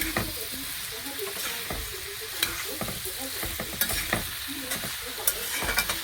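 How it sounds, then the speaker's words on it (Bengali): A spiced mixture with coriander powder and salt stir-fried in a pan, steady sizzle with repeated scraping and clacking strokes of the spoon at close range, no talk. "ভালো করে একটু কষবো"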